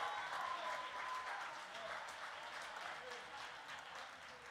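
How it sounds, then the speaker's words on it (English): A church congregation applauding steadily, a dense wash of clapping that fades slightly but continues throughout, with no clear speech over it. "Y'all clap for them."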